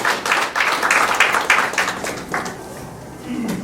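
Crowd applause at a Democratic Party election campaign committee launch meeting in Jeonbuk, with dense clapping for about two seconds that thins out and fades into quiet room sound.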